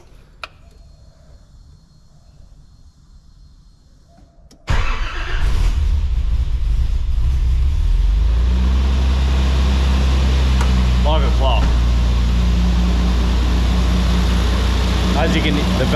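A car engine with valve clearances badly in need of adjustment starts abruptly after a few quiet seconds, then settles into a loud, steady idle close by.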